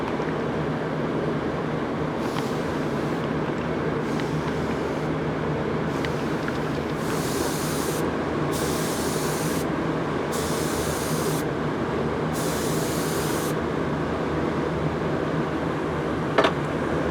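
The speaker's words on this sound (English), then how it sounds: "So we're gonna hit it with this and spray some color and see what happens." Spray gun misting alcohol and paint color onto a Cerakote-coated part, a steady hissing spray with several distinct bursts switching on and off, close and continuous over a constant background hum.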